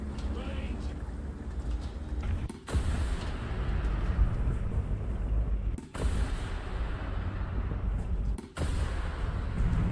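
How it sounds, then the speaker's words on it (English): Rockets fired from a Canberra bomber in War Thunder, with repeated sharp booming launches cutting through a steady engine drone while someone talks over the gameplay. "I forgot how you could just spew those rockets out of there."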